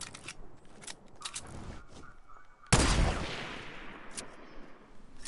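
Heavy sniper fire from a video game cracks out in a few sharp, scattered reports, with one loud shot midway that trails into a long ringing decay before quieter pops resume.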